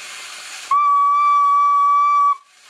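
A whistle blown to steer a homemade Rick100-style robot bulldozer: one loud, close, steady whistle tone held for about a second and a half, with a breathy hiss before and after it.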